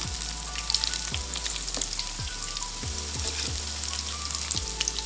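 Cauliflower 65 pieces fry in hot oil, a steady close sizzle and bubbling crackle that holds evenly throughout, with a few soft taps as pieces are turned.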